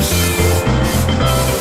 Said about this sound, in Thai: ก็สีสเปรย์พ่นวงกบได้อยู่แล้ว